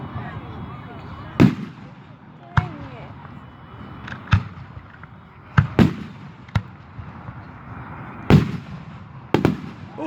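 Fourth of July fireworks in Delaware, Ohio burst in a series of sharp, loud booms, some doubling up, spaced irregularly over a low crowd murmur with occasional voices.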